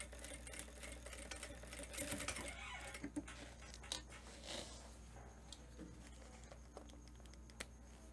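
A sewing machine runs short back-and-forth backstitches on a viscose jumpsuit seam, a faint, quiet patter of stitching with scattered clicks over a low background hum.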